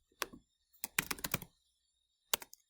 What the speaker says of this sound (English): I'm going to type item.